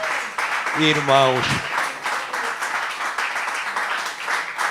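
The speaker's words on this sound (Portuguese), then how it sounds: "vamos dar um forte aplauso de gratidão a Deus" A church congregation applauds steadily in a large hall, the clapping continuing throughout while someone speaks briefly over it near the start.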